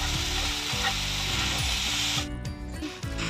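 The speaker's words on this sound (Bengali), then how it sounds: "এবার ভেজানো সাবুটা দিয়ে দেবো। দেওয়ার পরে 2 থেকে 3 মিনিট যাতে হালকা করে ভেজে একটা প্লেটে তুলে নেব।" Soaked sabudana fries in ghee with a loud, continuous sizzle and rhythmic scraping of a spatula stirring the pan, tapering slightly near the end.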